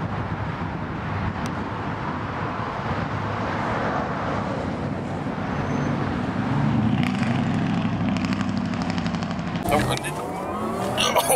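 A Porsche Taycan Turbo S accelerates hard under launch control, a steady rising electric whine and road roar heard from inside the cabin, with people talking over it and a harsher burst of noise near the end.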